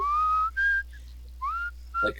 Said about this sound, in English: just a nice low, long whistle, would be like a jaunty tune if it wasn't so drawn out